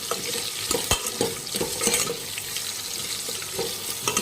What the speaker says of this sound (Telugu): ఇప్పుడు ఒకసారి దీన్ని కలుపుకుందాం.